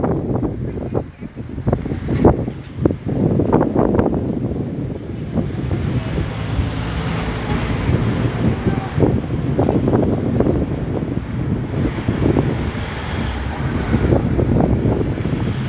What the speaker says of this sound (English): And this is traffic at Lower Broad Street.